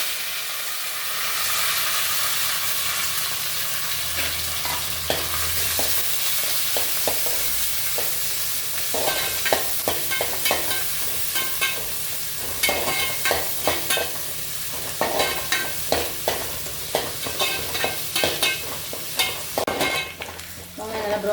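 Mustard seeds, onion and curry leaves fry in hot oil, giving a continuous sizzle and hiss punctuated by frequent clicks and scrapes of a stirring spoon against the pan.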